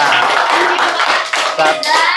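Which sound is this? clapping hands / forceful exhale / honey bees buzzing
clapping hands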